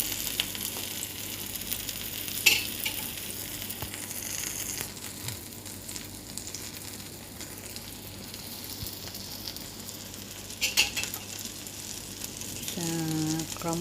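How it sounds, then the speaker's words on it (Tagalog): Scrambled egg with tomato and onion cooking in a frying pan gives a faint, steady sizzle with soft scraping, fairly quiet throughout, with a couple of brief clinks. "nag-crumble na naman ako ng egg"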